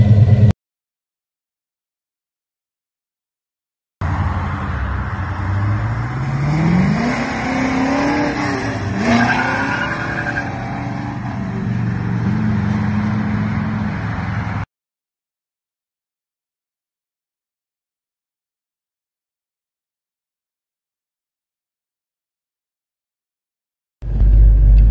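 A 1966 Pontiac GTO accelerates hard through the gears, its loud engine note climbing in pitch through several shifts over about ten seconds, with brief tire noise, bracketed by silence.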